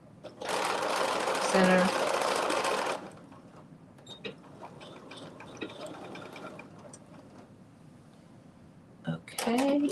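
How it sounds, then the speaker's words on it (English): A sewing machine stitches the back seam of a McCall's 8142 bodice in a fast, loud mechanical run of a few seconds, then goes quiet under soft talk before starting again right at the end. "I'm adding these, stitching this together at the back, that back seam"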